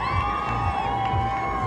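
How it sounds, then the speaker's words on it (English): Crowds of well-wishers lining the streets of Cardiff for a royal visit by the King and the Queen Consort, cheering and shouting continuously, with high excited voices rising over a steady roar. "crowds of well-wishers line the streets of Cardiff to greet the King and the Queen Consort"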